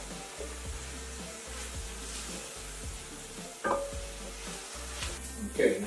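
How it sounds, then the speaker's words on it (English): Onions fry in a pan as sauce is stirred in, giving a low steady sizzle with a rhythmic scrape of the spoon repeating about once a second and a couple of louder clanks near the end. "just stir it around just to kind of soften it, let it start to work its way into the onions you got in there"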